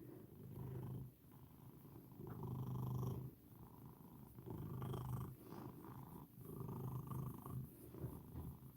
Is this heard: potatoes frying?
no